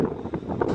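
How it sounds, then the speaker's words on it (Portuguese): Brief gusty wind buffeting a microphone, a low rumbling rush with soft swells and no voices. "tá ventando demais"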